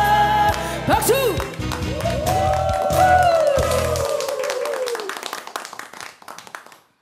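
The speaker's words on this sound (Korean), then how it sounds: "박수." An audience in a singing class claps after a retro folk trot song. The applause rises over the fading music and sustained vocal notes, then thins out into scattered claps.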